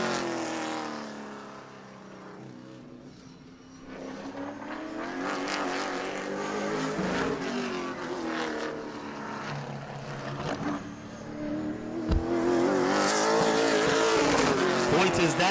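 A Pro Late Model race car runs a qualifying lap at Auburndale, its engine note rising and falling as it roars past, with a track announcer talking over it.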